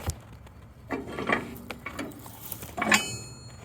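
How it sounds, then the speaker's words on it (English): A rail car coupler knuckle is worked open and shut by hand, giving a few heavy metallic clunks and creaking scrapes spaced over several seconds, close and moderately loud with no voices. "you can then open and close the knuckle."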